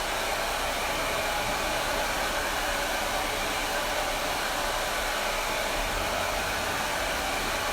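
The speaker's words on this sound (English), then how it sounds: "I'm just going to carry on working this really nice wrap drying technique, trying to flatten out all the roots" A hair dryer blows steadily and loudly throughout while wrap-drying hair during a textured bob haircut, a constant broadband rush with no talk.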